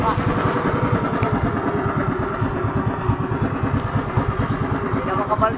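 Many fishing boat engines at sea drone together in a dense, steady, close chugging rumble with rapid rhythmic pulsing throughout, loud and unbroken, with faint voices mixed beneath.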